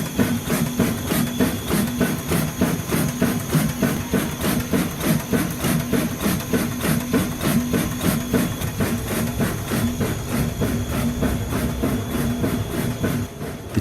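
A large stationary steam engine that drove a quarry crusher chugs in a steady, rapid rhythm, its mechanical beats and clanking repeating evenly and loudly throughout.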